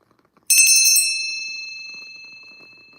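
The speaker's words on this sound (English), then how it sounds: "my bell to cleanse my energy in my area and yours" A single bell is struck once in a quiet room, a bright, close metallic ring with a sharp attack that hums and slowly decays over a couple of seconds.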